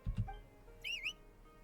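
A short whistled signal in Genshin Impact, a few rising and falling two-tone whistle notes after some low thumps, fairly clear over quiet game ambience.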